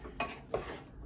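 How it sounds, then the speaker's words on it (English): A spoon stirring keto mincemeat in a pot on the stove, two quick clinks of utensil against the pot, close and fairly soft. "we're going to stir this around so that everything gets mixed together"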